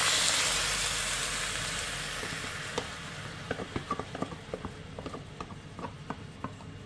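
Spicy pork bulgogi hits a hot pan on an induction hob set high, giving a steady sizzle with scattered sharp clicks and scrapes of stirring, no talk.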